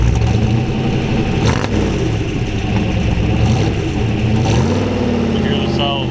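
A 1932 Ford three-window coupe hot rod with a 327 Corvette V8 and solid lifters runs steadily nearby, a loud continuous engine rumble with a faint ticking texture and slight swells in pitch.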